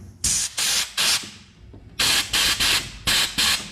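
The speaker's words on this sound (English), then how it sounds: "For best results, you want to sandblast it. This is just an inexpensive sandblaster." An inexpensive sandblaster blasts sand onto rusty car bodywork in loud, hissing bursts of about half a second, separated by short pauses, three in quick succession, a gap, then a second cluster of four.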